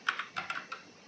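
Typing on a computer keyboard while entering a Linux command: a short run of about six crisp, close keystrokes in an irregular rhythm, then quiet.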